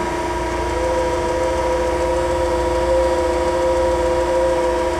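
A TOS Hostivar universal cylindrical grinder runs with its wheel spinning, giving a steady machine hum with sustained whining tones that holds evenly throughout, with no voices.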